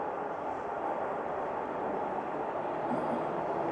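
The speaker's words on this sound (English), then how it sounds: "And we've got a southbound train." Southbound Toronto subway train arriving at Spadina station, a steady broad rumble and roar of wheels and cars filling the platform, loud and continuous with no talk.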